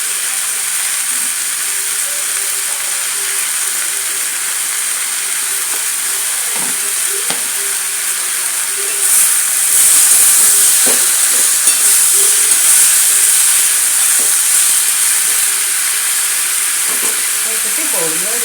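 Tomatoes and onions sautéing in a pan for a potato kurma gravy give a steady, close sizzling hiss throughout, with occasional soft stirring clicks and scrapes. The sizzle grows slightly louder partway through.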